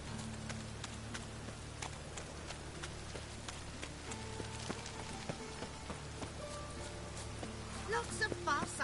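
Rain falls steadily in the video game Witcher 3, a soft continuous patter mixed with game music tones and someone talking over it throughout.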